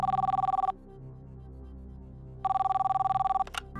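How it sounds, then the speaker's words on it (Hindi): A telephone rings in two bursts of rapid electronic trills with a pause of hum between them, the call line tone steady and fairly faint, ending with a short click as the call connects. "संजय रामदामू को फोन लगाया जाए कोलकाता में"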